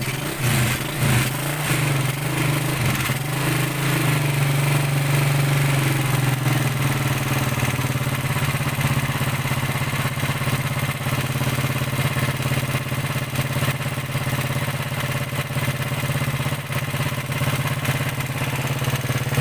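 A small engine on a home-assembled push cart idles steadily for the whole stretch, a constant low mechanical hum and rattle heard close up, with no talking.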